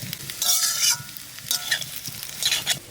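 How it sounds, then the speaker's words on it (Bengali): Tender young jackfruit frying in oil in a kadai while being stirred, with a constant sizzle and several loud bursts of spatula scraping and stirring against the pan, close and clear with no talking. "ইঁচড়টা ভাজা হয়েছে ভালো"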